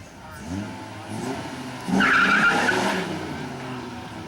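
Electric drag race cars, among them the electric Maniac Mazda RX-7, launching at a 1999 NEDRA drag race, with tire squeal and a rising whine that swells loudly near the middle, while an announcer's voice carries over a public address system.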